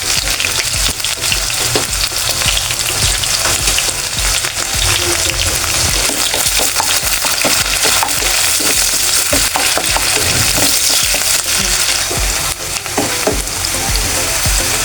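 Onions and green chillies fry in hot oil with bay leaves, giving a dense, loud, continuous sizzle and crackle. A spoon stirs and scrapes the pan up close throughout.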